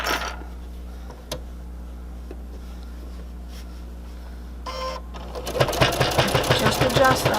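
Sewing machine stitching binding on a sail mast pocket, mostly quiet handling at first with a few clicks, then a steady close run of rapid needle strokes starting near the end.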